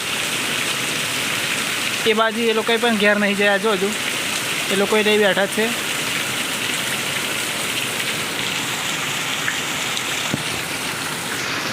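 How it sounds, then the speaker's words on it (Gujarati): Heavy first monsoon rain pours in a dense, constant hiss while someone speaks briefly over it in the middle. "એકદમ જોરદાર વરસાદ ચાલુ થઈ ગયો છે"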